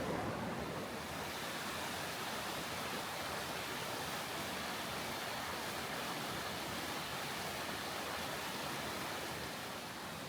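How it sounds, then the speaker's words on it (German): Waterfall in a river gorge, heard from a narrow bridge over the river, giving a steady, loud broadband roar of rushing water that holds constant for the whole stretch with no voices. "Hier gibt es auch den besten Blick auf den Wasserfall in der Schlucht."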